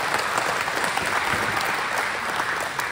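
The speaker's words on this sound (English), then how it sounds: "she deserves a round of applause" A crowd at a county GOP wine social applauds, dense continuous clapping filling the whole moment at a steady, fairly loud level.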